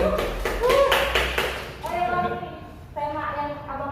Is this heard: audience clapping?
yes